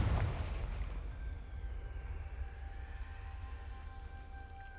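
A Confringo spell explosion in Hogwarts Legacy, a deep booming blast at the start that fades into a low rumbling tail with faint tonal hum behind it.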